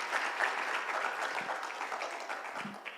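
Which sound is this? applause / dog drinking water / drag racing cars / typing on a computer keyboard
applause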